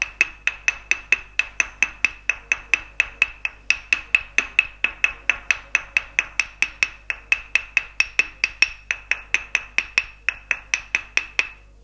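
Steady rapid tapping of a wooden mallet in northern Thai traditional massage, worked along the finger joints and back of the hand, with dozens of crisp, evenly spaced knocks close up and no talking.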